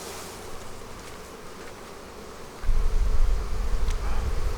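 Honey bees buzz steadily in the open air while a beekeeper inspects a hive and adds honey supers, the hum swelling louder and closer partway through.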